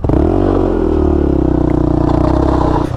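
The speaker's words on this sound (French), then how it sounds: "gros freinage" A 125cc motorcycle's engine drones loud and close as it brakes hard, holding a steady pulsing note that drops slightly in pitch before cutting off near the end.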